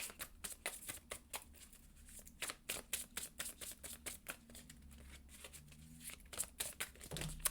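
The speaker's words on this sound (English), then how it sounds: "they wanted me to shuffle again" Tarot cards being shuffled by hand, a quiet rapid run of papery riffling flicks that keeps going steadily for several seconds, close up with no talking.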